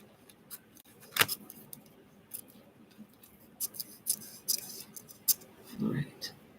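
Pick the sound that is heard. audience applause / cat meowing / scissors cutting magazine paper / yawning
scissors cutting magazine paper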